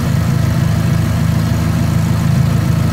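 An engine idles steadily with a low, rumbling drone and slight vibration, continuous and close, with no voices.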